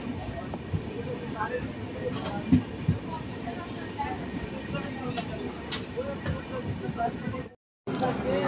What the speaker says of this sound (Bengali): কাঁথি স্টেশনে 1 নম্বর প্ল্যাটফর্মে আমাদের ট্রেন ঢুকছে